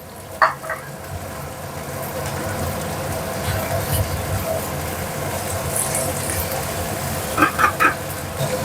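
Chopped tomatoes frying in a pan for paneer chana masala, a steady, close sizzle throughout with a few clinks of a utensil near the start and end.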